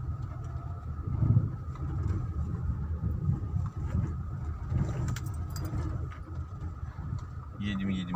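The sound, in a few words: car driving along a village main street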